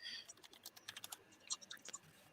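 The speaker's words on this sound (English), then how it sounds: "Of course, typing in Mod T." Rapid, irregular clatter of keys on a computer keyboard as someone types in the name of a New Matter Mod T 3D printer, close and fairly quiet, with no talk over it.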